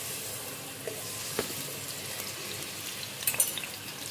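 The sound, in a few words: bananas frying in homemade ghee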